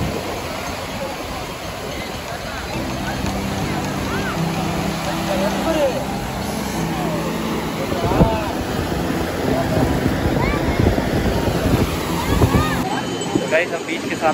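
Sea waves wash in at Marina Beach in Chennai, a steady rush of surf mixed with wind buffeting the microphone, swelling somewhat louder in the later part as voices carry faintly in the background.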